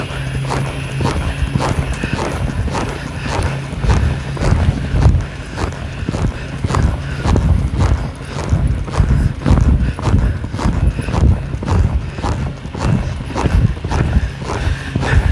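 Rhythmic hoofbeats of a horse trotting, steady two-beat clopping close by, with wind noise rustling over the microphone.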